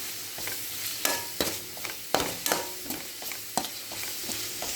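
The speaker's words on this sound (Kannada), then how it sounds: "ಇದು ಕೂಡ ಫ್ರೈ ಆಗಬೇಕು, ಇದು ಚೆನ್ನಾಗಿ ಫ್ರೈ ಆಗಲಿ." Garam masala and cumin-coriander powder fry in a pan for tomato bath, with a steady sizzle. Close, repeated scrapes of stirring punctuate the sizzle about every half second, with no talking.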